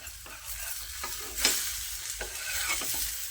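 A finger millet (ragi) uttapam fries on a pan with a continuous close sizzle, while a spatula scrapes and stirs against the pan in short, repeated strokes.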